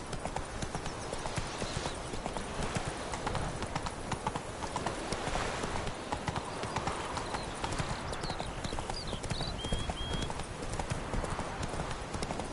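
Roach, a horse in The Witcher 3, gallops steadily with continuous rapid hoofbeats over a busy game soundscape, with occasional brief whinny-like tones and faint voices.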